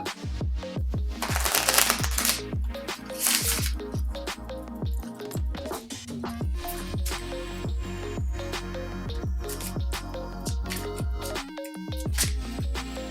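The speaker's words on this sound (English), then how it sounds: "I'll shuffle the cards to give it a good mix through." A deck of oracle cards is shuffled by hand in a steady run of crisp riffling and sliding card sounds, close and clear, with no voices heard.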